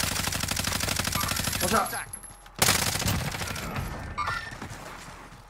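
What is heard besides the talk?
gunfire in video game Call of Duty Warzone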